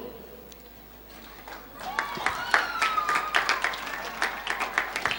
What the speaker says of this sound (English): Let's cheer for both teams.